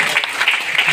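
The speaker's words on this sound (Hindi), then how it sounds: "अच्छा एक बार उनके लिए जोरदार ताली बजा दी।" An audience at a business plan presentation claps loudly, a short burst of dense, steady applause.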